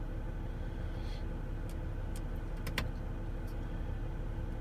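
A BMW X5 35d E70 diesel engine idles just after starting, a steady low rumble heard from inside the cabin, with a few faint clicks and ticks over the constant hum.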